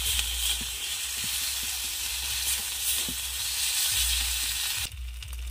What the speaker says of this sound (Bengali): এইবার আমি আদা বাটাটা দিয়ে দেব। ভালো করে এটা নাড়াচাড়া করে নেব।